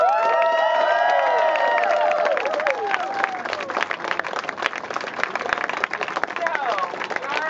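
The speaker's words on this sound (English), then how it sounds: "Give her a big round of applause." Crowd at an Occupy Boston protest rally clapping and cheering, with voices shouting over dense applause at the start that thins into scattered claps and chatter.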